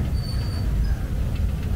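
A train crossing a steel bridge on Thailand's Death Railway, heard from on board as a constant low rumble of wheels with faint metallic squeals above it.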